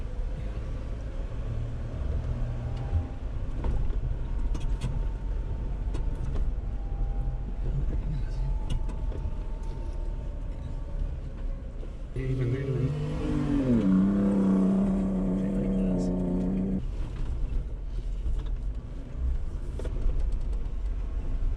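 Another off-road vehicle climbing the Borrego Mountain Wash canyon trail in Anza Borrego: its engine swells and revs for several seconds midway, rising over the steady drone of a nearby idling four-wheel drive, with someone speaking at times.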